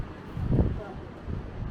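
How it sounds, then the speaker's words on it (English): Blustery wind buffeting the microphone at night on a seaside trip in North Wales near Rhyl, a low rumbling roar with one stronger gust, heard over a voice talking. "Hopefully you can hear me, because it's very windy."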